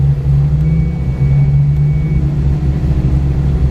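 An SN95 Ford Mustang at a ProSolo autocross event sits with its engine running close by in a deep, steady rumble, the revs rising only slightly and nothing else audible.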